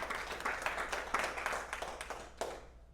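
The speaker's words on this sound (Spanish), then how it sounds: "Dale el aplauso a la palabra de Dios." Church congregation applause, a burst of clapping that swells and then tapers off over about three seconds, heard at a slight distance with a final clap trailing at the end.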